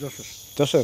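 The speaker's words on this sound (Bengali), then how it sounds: "ঝিঝি পোকার ডাক শুনতেছো না?" Crickets in Lawachara forest keep up a steady high drone beneath a man's brief, close speech during a short moment.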